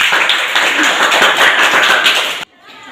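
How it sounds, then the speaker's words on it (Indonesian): A classroom group in a microteaching session claps together for about two and a half seconds, a dense, steady patter of many hands close by that stops abruptly, leaving a faint murmur. "Tepuk tangan ya."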